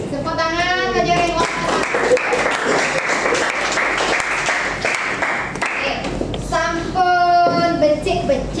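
Classroom applause from children during a school lesson, a dense burst of clapping lasting several seconds with voices speaking before and after.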